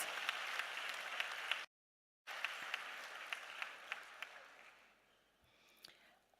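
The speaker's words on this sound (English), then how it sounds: "Let's give the president a big round of applause." An audience at a formal address applauds the president with steady, fairly quiet clapping. A brief dropout of total silence interrupts it before the applause resumes and then gradually fades out.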